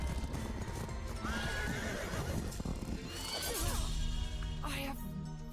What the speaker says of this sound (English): the horse comes in for the final blow